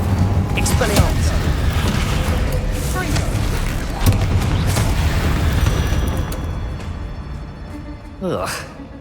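Spell blasts and explosions in Hogwarts Legacy, loud booming bursts and crackling impacts following one another under a voice casting spells, ending with a rising whooshing effect.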